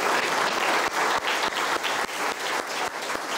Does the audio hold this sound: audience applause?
yes